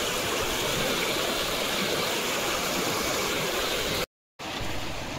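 A flooded river rushes in a loud, continuous roar of turbulent water, close by and unbroken apart from a brief cut near the end.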